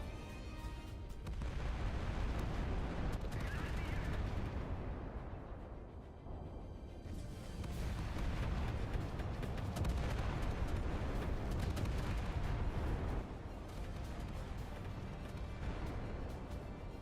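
Anti-aircraft fire in Battlestations: Pacific, a dense continuous roar of rapid gunfire and booming explosions that stays loud throughout and briefly eases around the middle.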